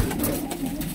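Teddy pigeons coo in a breeder's loft, soft low throaty murmurs that are close and steady, with no voices over them.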